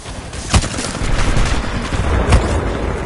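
Short bursts from the L-STAR energy gun in Titanfall 2, a steady rattling stream of fire punctuated by two sharp, louder cracks amid ongoing combat noise.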